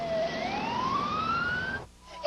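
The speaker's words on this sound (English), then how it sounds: "A basic life support CM ambulance was immediately dispatched." An ambulance siren wails, sweeping upward in pitch, loud and close, then cuts off abruptly near the end.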